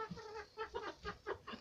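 Young chickens cluck softly in a steady series of short, throaty calls, fairly close but quiet, with no talking over them.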